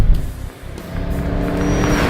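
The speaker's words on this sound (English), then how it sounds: "I'm driving the 2010 Camaro SS." A 2010 Chevrolet Camaro SS driving, its steady low engine and road rumble heard from inside at a fairly loud, even level, with a brief dip near the start and no talk.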